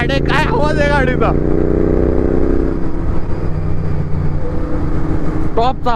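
Close, continuous exhaust rumble from a GT650 motorcycle riding on the road to Lonavala, steady and loud throughout. Voices talk over the engine at the start and briefly at the end.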